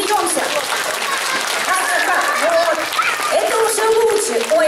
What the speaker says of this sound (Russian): Хлопаем и смеемся.